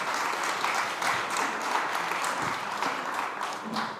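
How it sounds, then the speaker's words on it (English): Applause for the panelists at the SXSW All Things Food summit: a crowd clapping steadily and fairly close, a busy even patter lasting several seconds without spoken words. "Please give these panelists a round of applause."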